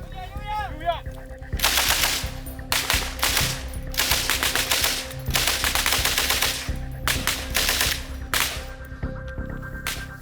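Rapid bursts of soldiers' voices imitating gunfire in unison, sharp staccato volleys repeating loudly in quick rhythm.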